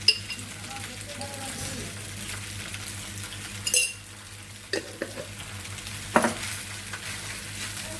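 Tomato sauce and mayonnaise are stirred in a hot pan, a steady near sizzle with scraping and occasional clinks of the spoon against the metal, no talking.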